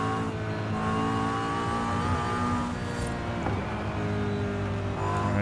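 A Porsche 918 Spyder engine revs and pulls in Forza Horizon, a continuous, fairly loud harmonic roar with changing pitch as the car accelerates, with no voices.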